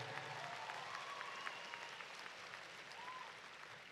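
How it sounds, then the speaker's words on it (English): Faint, steady applause from a high school graduation crowd honoring scholarship recipients, a continuous wash of distant clapping with a few whoops and voices mixed in. "Let's give them a round of applause."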